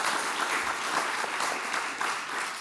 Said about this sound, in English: So yeah, round of applause for them as well.